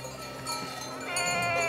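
A flock of ewes bleating in a herd being readied for transhumance, overlapping wavering calls from several sheep at middle distance over a steady outdoor background.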